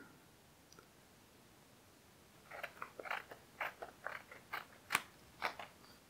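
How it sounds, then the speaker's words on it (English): A sheet of baby-safe light-softening material is cut with scissors, about a dozen crisp snips in an irregular rhythm, close and fairly quiet with no talking. "we're going to take our Baby Don't Cry softening sheets and cut a piece the same width as the light"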